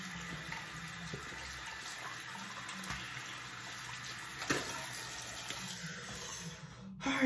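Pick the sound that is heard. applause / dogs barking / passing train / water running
water running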